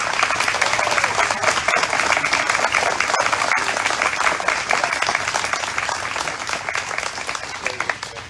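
Sustained audience applause at an outdoor memorial statue dedication, dense steady clapping from a crowd filling the whole stretch and tapering slightly toward the end.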